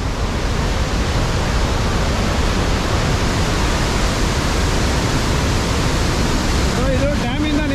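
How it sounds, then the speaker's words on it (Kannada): Water released from a dam near Athirapally Falls rushes and roars in a loud, steady broadband wash that never lets up, filling the whole stretch, with a faint tonal sound creeping in near the end. "ಇದು ಡ್ಯಾಮಿಂದ ನೀರು ಬಿಟ್ಟಿರೋದು"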